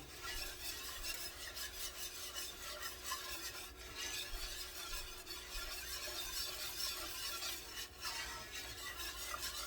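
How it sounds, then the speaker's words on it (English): A browning mixture for smothered beef chuck roast is stirred steadily in a pot, a soft continuous rasping scrape with faint sizzle underneath, rhythmic strokes pausing briefly twice, no talk. "And you want to keep stirring it until it gets to the brown color that you're looking for."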